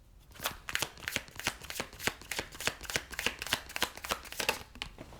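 Tarot cards are shuffled by hand in a steady run of crisp riffling flutters, repeating rhythmically and close up, with no talking.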